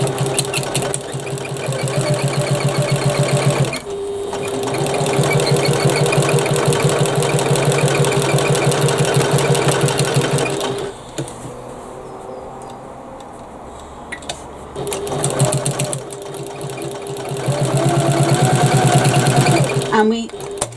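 A sewing machine stitches a quarter-inch seam in fabric for a bag, running in steady bursts with short pauses between them. A voice talks over parts of the stitching.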